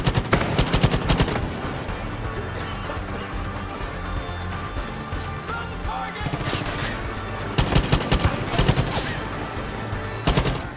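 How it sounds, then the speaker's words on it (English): Automatic weapon fire in the Far Cry 5 campaign, loud rapid bursts at the start, then sustained rattling fire, with dense volleys returning near the end; a voice talks briefly. "Who's trying to shoot at me?"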